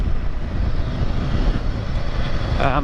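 A Royal Enfield Himalayan 450 motorcycle engine runs under throttle with a continuous, fairly loud rumble and wind noise, without speech.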